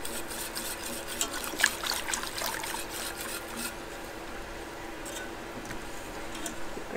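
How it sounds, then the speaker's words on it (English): Water is poured and whisked into hot homemade caramel for coffee syrup, giving soft trickling, spitting and crackly fizz that fades to a quieter hiss, close and moderately faint. "Now when the water hits it, there's its chance of it spitting and sizzling."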